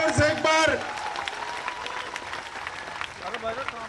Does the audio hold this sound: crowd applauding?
yes